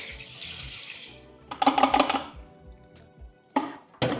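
Water is poured out of a home film developing tank into a sink, a steady rush followed by splashing bursts and a few clattering knocks of the tank and lid.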